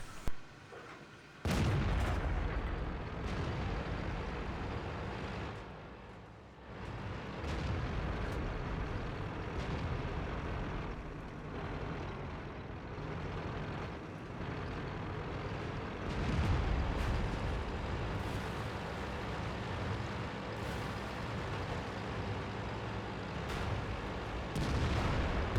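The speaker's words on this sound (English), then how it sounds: "IS-6 probably shooting to their side." IS-6 tank cannon fire in World of Tanks on the Swamp map, heavy booming shots over a constant rumbling battle din, with several blasts spread through the stretch.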